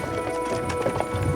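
Horses gallop in a medieval game setting, a rapid, close clatter of hooves on ground with a low rumble and faint ambient tones beneath.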